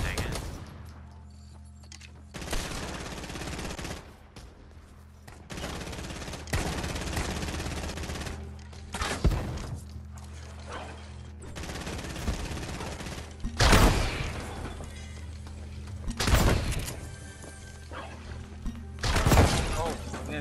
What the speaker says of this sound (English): Shots from everywhere